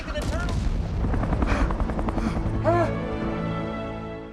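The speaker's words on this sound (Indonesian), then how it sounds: "menembakkan bazooka ke arah mereka" Bazooka fired at a helicopter in a film action scene: sharp blasts and booming impacts burst over steady rotor noise, with a dramatic musical score and short bursts of speech underneath.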